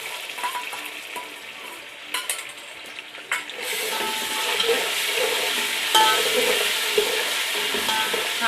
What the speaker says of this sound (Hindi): अब मैंने इसमें 4 बड़े चम्मच लहसुन अदरक का पेस्ट डाल दिया।